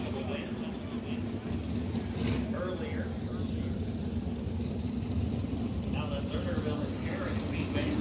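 A pack of 410 sprint cars fires back up during a heat race at Grandview Speedway, a dense steady engine roar filling the track with a muffled voice beneath.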